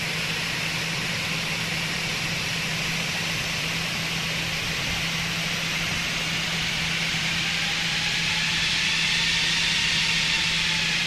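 Airbus A320 jet engines in the Fenix flight simulator spool up for the takeoff roll, a steady broadband roar with a whining tone that climbs and grows louder toward the end.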